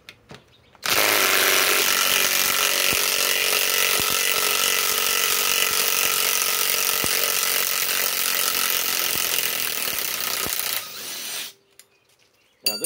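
A Flex FX1451 impact driver runs in reverse at speed 3, backing out 10-inch lag screws with a loud, sustained rapid hammering rattle for about ten seconds before winding down and stopping.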